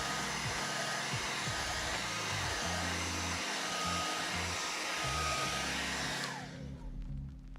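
A heat gun blows hot air onto a dbrand leather skin, a steady loud whirring hiss that runs unbroken before cutting off abruptly near the end.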